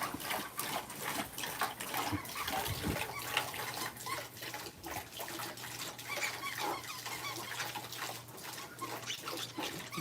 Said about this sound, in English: He's so thirsty, he's drinking right out of the faucet.